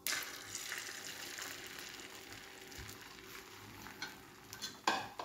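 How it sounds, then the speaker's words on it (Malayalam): Beaten egg for an omelette fries in an oiled pan, with a soft, continuous sizzle and a few sharper scraping and clinking utensil sounds near the end, close and moderately quiet. "പാൻ ചൂടായി വരുമ്പോഴത്തേക്ക് നമുക്ക് മുട്ട ഒഴിച്ച് ഓംലെറ്റ് ഉണ്ടാക്കിയെടുക്കാം"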